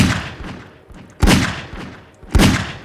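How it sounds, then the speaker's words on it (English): Three sharp gunshot-like blasts ring out at regular intervals, each a loud broadband crack with a short decaying tail, close and with no talk over them. "Did you like how I shot my gun?"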